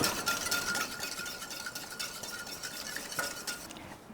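A whisk stirs sugar into liquid in a pot, a rhythmic scraping swish with light metallic clinks, close and fairly quiet, with no one talking.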